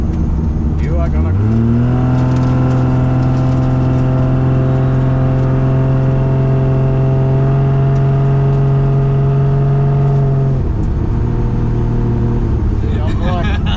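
A 1200 hp RB30-powered all-wheel-drive Nissan 180SX makes a gentle first-gear pull. The loud, close engine note rises in pitch, holds a steady drone for several seconds, then drops back as the throttle lifts, with voices talking over it.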